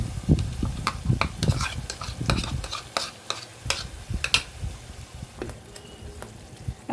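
Spinach paste going into a pan of spiced masala already fried until the oil separates, for palak paneer; spoon scrapes and clatters over a light sizzle, busier at first, then sparser clicks.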